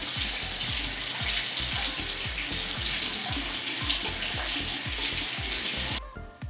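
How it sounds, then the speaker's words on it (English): Warm water runs steadily from a tap into a sink, a loud, close, continuous rushing stream that cuts off abruptly near the end. "Let me get the warm water on."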